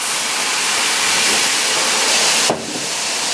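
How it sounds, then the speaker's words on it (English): Butter and hot sauce heat over a low flame in a pan, giving a steady, close broadband sizzle and hiss that holds throughout, with one sharp knock partway through. "Just mix it around until the butter melts."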